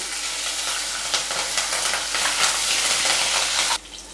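Chopped green chillies frying with lentils in hot oil for rava upma, producing a loud continuous close sizzle with crackling pops that cuts off abruptly near the end.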